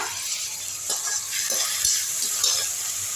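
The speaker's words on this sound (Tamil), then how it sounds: "நல்லா வந்து சாஃப்ட் ஆகிற அளவுக்கு வதக்கிங்க" Cabbage chicken masala sautéing in a pan gives a steady close sizzle and fry hiss, with soft stirring scrapes recurring every half second or so.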